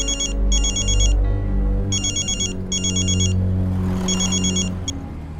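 A telephone ringtone rings in repeated bursts while a call is placed, each electronic trill loud and close with short gaps between rings, over a low background hum and no talk.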